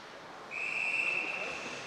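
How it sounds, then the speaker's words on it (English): A referee's whistle blown for offside at a junior ice hockey game in a rink, one sustained shrill tone lasting over a second, moderately loud above the distant arena murmur. "It's intercepted by Connor Murphy before the whistle goes on the offside"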